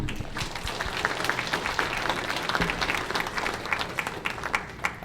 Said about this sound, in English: a round of applause for Julia.